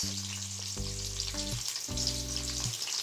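Rounds of sliced large onion fry in hot oil in a kadai, browning lightly, with a steady, soft sizzling hiss beneath low, stepped tonal notes in the background.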